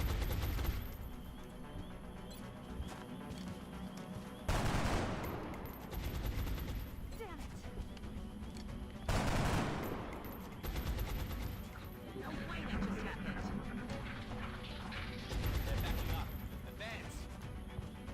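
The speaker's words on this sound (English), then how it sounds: "He's literally shooting at us." Gunfire from the turn-based strategy game Long War sounds in several heavy bursts spaced through the stretch, with booming impacts and rattling volleys. Players talk over the game sounds throughout.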